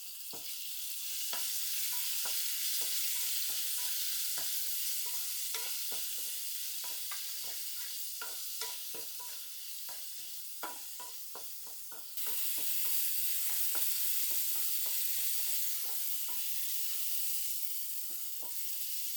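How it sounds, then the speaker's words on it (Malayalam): Chopped tomato, green chilli, ginger and curry leaves with salt sauté in a pan for a dosa batter, a continuous bright sizzle punctuated by frequent sharp spatula scrapes and taps, growing louder partway through. "ഒരു ചെറിയ തക്കാളി അരിഞ്ഞതും ഒരു പച്ചമുളക് അരിഞ്ഞതും ഒരു ചെറിയ കഷ്ണം ഇഞ്ചി അരിഞ്ഞതും കൂടെ കുറച്ച് കറിവേപ്പില ആവശ്യത്തിന് ഉപ്പ് കൂടി ചേർത്ത് ചെറുതായി ഒന്ന് വഴറ്റിയെടുക്കണം"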